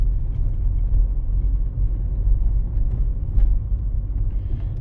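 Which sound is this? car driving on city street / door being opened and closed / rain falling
car driving on city street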